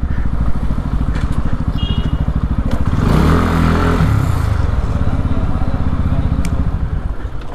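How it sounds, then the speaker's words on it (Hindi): A motorcycle engine runs close and loud with a steady low thrum, briefly surging in the middle, as the bike is brought to a stop for parking on a steep hillside. "चलो फिलहाल बाइक को करते हैं यहाँ पार्क।"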